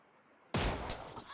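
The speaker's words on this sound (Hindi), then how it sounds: "AWM का हेडशॉट मेरे पड़ जाता है।" In PUBG gameplay, an AWM sniper rifle fires a single sudden, loud shot out of near silence, its sharp crack trailing into a short ringing echo.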